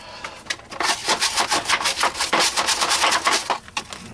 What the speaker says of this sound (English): we're going to get a scrub brush. We're just going to scrub it. Scrub everything.